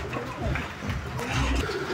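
Pigeons coo at a pigeon farm with Mundian, Shocking and Lahori breeds, low soft calls close by amid murmuring voices and general room noise.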